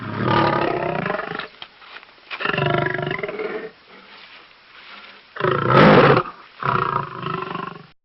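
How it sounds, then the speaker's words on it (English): A lion roars in several deep, powerful bursts separated by short pauses, loud and close, with a quieter growling rumble between them. "Lion."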